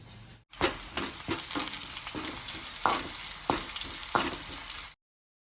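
Onion frying in a pan with a ground puree of onion, green chilli and tomato, giving a loud, close sizzle with several sharp scraping stirs before it cuts off abruptly.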